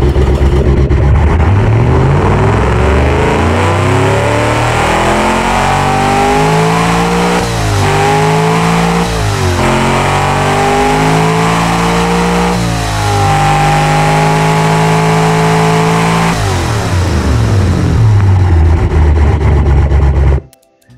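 A loud, close 7-liter carbureted engine fitted with single-barrel carburetors in the Automation game revs up and down several times, its pitch climbing and dropping in sweeping waves before cutting off sharply.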